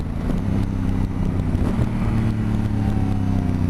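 A Honda CRF1000 Africa Twin DCT motorcycle engine drones loud and near under buffeting wind noise while riding, with shifting engine tones as gears are kicked down.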